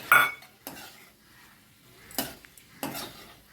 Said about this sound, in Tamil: இது நல்லா கிண்டி விட்டுருங்க